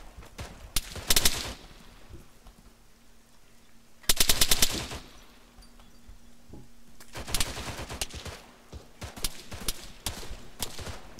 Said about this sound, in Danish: De skyder hen over græden. Jeg skyder igen hen over græden